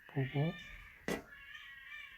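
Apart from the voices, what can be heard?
cats fighting outside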